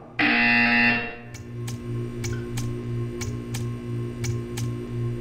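A loud electronic buzzer blares in the video game Portal 2 for about a second, then gives way to a steady low hum with regular faint ticks in the background.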